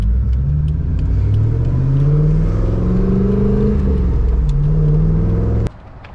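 A Corvette C6 ZR1 revs hard and close, its deep engine and exhaust rising and falling through several sustained pulls before cutting off sharply near the end.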